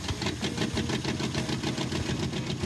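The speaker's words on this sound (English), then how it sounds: "Runs rough, but it runs." A Jeep J engine running rough after starting: a continuous, uneven mid-pitched rumble with a pulsing, slightly knocking rhythm, loud and close throughout.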